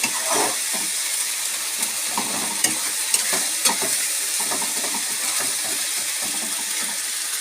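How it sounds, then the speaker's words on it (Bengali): Spices with garlic and ginger fry in hot oil in a pan, a steady close sizzle running throughout, broken by occasional sharp scrapes and taps of a stirring spoon, with no voices. "এবার এই মশলাগুলোকে আমি একটু হালকা কষিয়ে নেব।"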